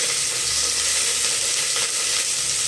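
Onion and curry leaves frying in hot oil, a steady close sizzle with crackling and faint stirring throughout, no voices.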